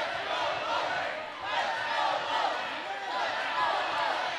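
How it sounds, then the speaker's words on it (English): A men's college volleyball crowd in the Grand Canyon University arena keeps up a loud, rhythmic chant in rolling swells, with many voices blending into a dense roar close by. "the crowd here thundering with the "Let's Go Lopes" chants"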